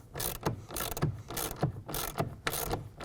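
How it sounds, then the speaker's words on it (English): A ratchet wrench clicks in quick repeated bursts while tightening the front bolts of a Bak Industries Revolver X2 tonneau cover, about five rhythmic pulls, close and fairly loud with no talking. "we're going to go ahead and tighten down those bolts at the front using a 1/2 inch wrench or ratchet"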